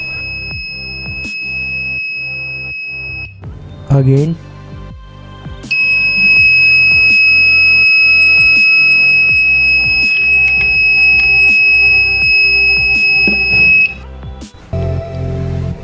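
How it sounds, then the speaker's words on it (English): An Arduino MQ3 alcohol detector's buzzer sounding its drunk alarm: a loud, continuous high electronic tone that sounds, cuts off with clatter, then returns for a long stretch before stopping, with a brief spoken word. "When I take the alcohol near the alcohol sensor, buzzer creates sound and display show you are drunk."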